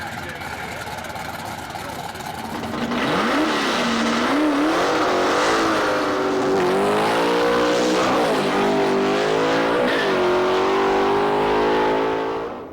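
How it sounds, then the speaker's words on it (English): A G-Stock 1957 Chevy wagon roars down a drag strip, its engine rising in loud revving sweeps with gear changes and a steady high-power drone, while an announcer speaks over it. "Pete Preston is driving the Preston and Lawrence national record-holding G-Stock 57 Chevy wagon"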